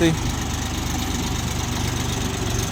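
A small three-cylinder diesel engine of a Bulat 244 four-wheel-drive mini tractor idles steadily nearby with a low, rhythmic chugging that stays even throughout.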